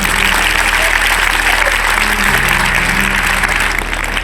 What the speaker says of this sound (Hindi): अब आप अपने लिए तालियां बजा दो एक बार